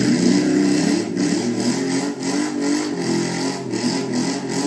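Modified Royal Enfield GT 650 motorcycle with a short exhaust, its engine running loud and close with a steady throbbing pulse and rising revs, no voices over it.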